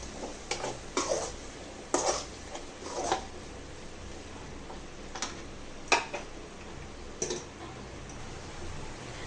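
Garam masala and chili powder fry in a pan for vegetable sambar and chicken dry, heard as a steady low sizzle with intermittent ladle taps and scrapes against the pan.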